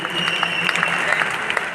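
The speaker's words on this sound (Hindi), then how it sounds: "एक बार जबरदस्त ताली होना चाहिए" Audience applause at a seminar in Delhi, a dense, steady patter of many hands clapping throughout, loud and close, with a voice faintly under it.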